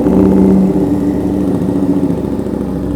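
A custom widebody motorcycle engine runs loudly close by, a deep, throbbing rumble that holds steady throughout and fills the whole clip.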